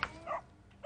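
A dog gives a few short, quiet barks in quick succession, faint and somewhat distant, with no talking over them.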